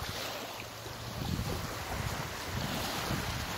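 Waves wash onto a Mediterranean shore in France while strong wind buffets the microphone, a loud, continuous blustery roar with surging swells of surf.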